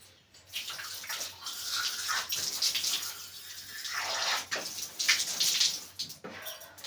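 Water splashing as a face is washed at a sink, close bursts of splashing and running water that rise and fall over several seconds.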